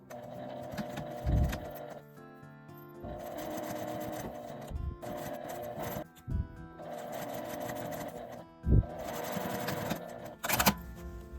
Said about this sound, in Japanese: 留め具の右側から端まで縫います。